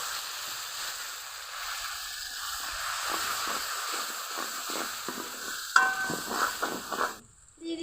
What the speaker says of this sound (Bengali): আদা বাটা কিছুক্ষণ ভেজে নিব দিব লবণ দিব হলুদের গুঁড়া সামান্য একটু জল দিয়ে আরও কিছুক্ষণ কষিয়ে নিব